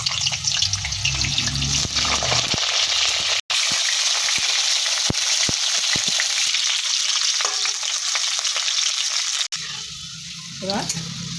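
Pieces of bitter gourd fry in hot oil for a milk-based shukto, giving a loud, steady sizzle that runs almost unbroken, with two brief cutoffs and a few clinks near the end.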